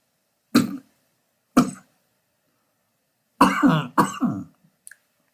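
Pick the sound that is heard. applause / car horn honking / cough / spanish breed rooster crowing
cough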